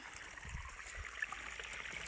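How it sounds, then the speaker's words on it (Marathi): Irrigation water from two pump motors rushes steadily across a farm field, a continuous even flow with a faint gurgle and no voices. "आता देणे चालू आहे पाणी 2 मोटराचं"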